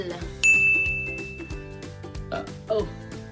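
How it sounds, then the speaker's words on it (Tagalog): A bright bell ding rings out over background music, its tone ringing on and fading, with a second softer chime near the end. "Hit that notification bell."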